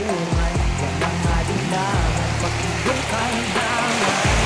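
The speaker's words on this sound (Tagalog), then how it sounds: "Inabot na tayo ng malakas na ulan" Heavy rain falls steadily outdoors, giving a dense continuous wash of noise under shifting low engine-like tones.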